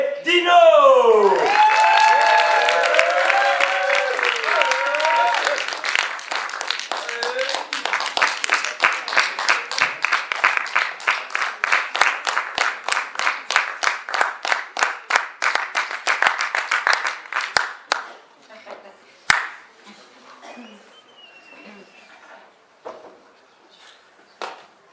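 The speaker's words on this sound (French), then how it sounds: "Messieurs, dames, applaudissez Dino" A crowd at a poetry slam in a bar in Reims applauds a poet, rising into rhythmic unison clapping that speeds up, with voices and cheers early on before it breaks off into scattered claps.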